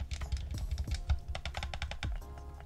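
Rapid plastic clicking and tapping of buttons on a counterfeit PlayStation 4 controller, close and fairly steady, in irregular bursts with no talking.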